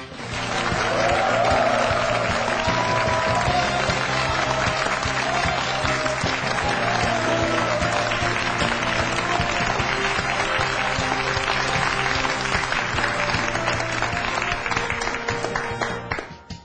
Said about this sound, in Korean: 비트컴퓨터 조현정 대표를 뜨거운 박수로 맞이해 주십시오